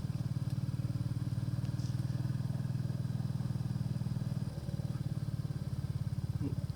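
Motorcycle engine drones steadily and close at a constant low pitch while riding along a quiet country lane in Barbondale, a continuous throbbing rumble with light wind noise and no talk.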